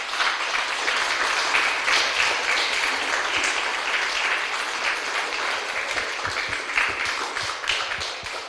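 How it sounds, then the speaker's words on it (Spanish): A church congregation claps loudly during a sermon, a dense, sustained round of applause lasting several seconds with no speech over it. "Denle un aplauso fuerte al Señor."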